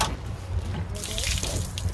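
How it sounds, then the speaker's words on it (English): Gray water drains from a truck camper's tank through a standard pull valve, a steady splashing gush that swells partway through, close and moderately loud. "Gray water is coming out."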